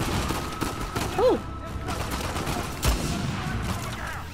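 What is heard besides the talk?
gunfire from a sniper rifle in a video game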